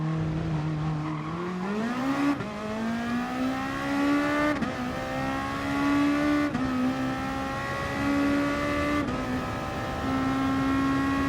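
Race cars in the GT Sport driving game during an FIA Nations Cup exhibition race, one engine revving hard and climbing through repeated gear changes, with other cars droning close by and faint tyre noise.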